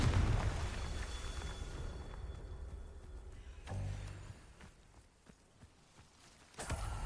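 The Confringo spell in Hogwarts Legacy sets off a booming explosion, followed later by a second burst, each loud with a rumbling tail over low game ambience.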